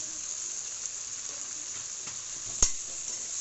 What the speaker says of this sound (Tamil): கொத்தமல்லி, புதினா போட்டுடலாம். நல்லா வறுத்துக்கலாம். மஞ்சத்தூள் போடலாம்.